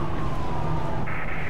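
Police car siren wailing in the video game Mirror's Edge, a continuous loud electronic tone with a second higher siren layer joining near the end, heard over a dense game background.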